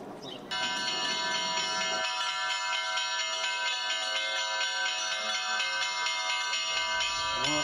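A monastery church bell rings with a sustained, shimmering metallic tone full of overtones, starting abruptly after a brief moment and then holding loud and steady without a break.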